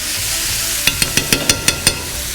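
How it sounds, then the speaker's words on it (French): Onions, shallots, garlic and ginger sauté in olive oil under a steady sizzle, with a run of about seven sharp, evenly spaced stirring knocks against the pan. "bien torréfier nos oignons et échalotes avec l'ail et le gingembre"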